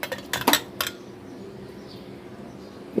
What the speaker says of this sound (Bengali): তো এভাবে আমগুলো দিয়ে দিচ্ছি।